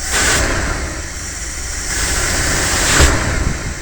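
A rough, steady engine rumble with breathy exhaust noise from a 1978 Dodge truck, swelling a little in places, heard up close with no talking.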